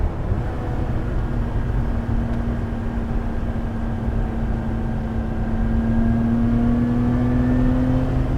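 Lotus Exige Sport 410 sports car held at wide open throttle on the Goodwood motor circuit, a steady loud engine drone rising gradually in pitch over several seconds as it accelerates, heard from inside the car.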